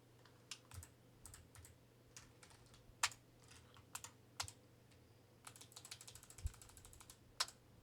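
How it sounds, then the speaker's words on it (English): Quiet keystrokes tap on a computer keyboard in irregular clusters, crisp close clicks scattered over a faint low hum, with no voices over them. "and then I start typing."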